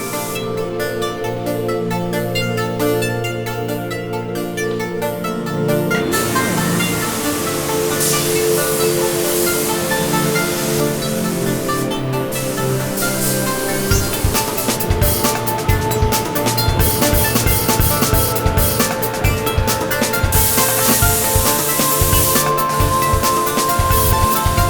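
A spray gun lays down a blue metallic base coat in a paint shop with a continuous hissing rush of air and atomized paint, steady and close throughout, with shifting tone and no speech.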